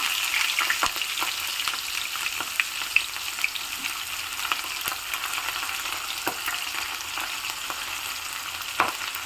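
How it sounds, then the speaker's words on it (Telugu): Onions sizzle steadily in a hot pan, a constant crackling hiss with occasional sharp pops and light stirring scrapes, no voices. "వేగిపోయినాయండి ఉల్లిపాయలు ఇట్లా వేగితే మంచిగా బాగుంటాయి"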